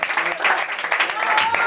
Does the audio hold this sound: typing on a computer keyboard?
no